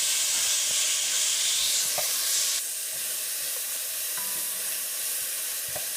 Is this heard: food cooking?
yes